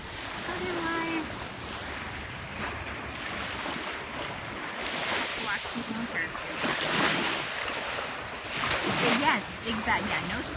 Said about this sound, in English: this is a normal beach. Some, a lot of pebbles down here.